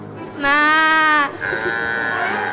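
A person imitates a cow's moo, a single long, drawn-out lowing call followed by a shorter, thinner vocal tone.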